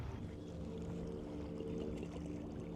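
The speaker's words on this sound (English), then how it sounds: "Just the sound of birds and the occasional boat passing by." Boat passing by on the water near a tiny island campsite, a low faint engine hum that stays steady and distant throughout, with soft water sounds.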